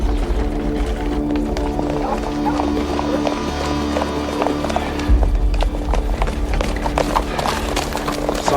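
Several horses arrive on a medieval setting's ground, hooves clip-clopping in irregular, overlapping strikes close by, with people's voices talking over the clatter.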